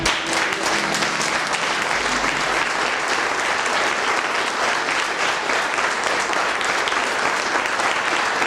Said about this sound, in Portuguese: você vai dar o seu maior aplauso ao Senhor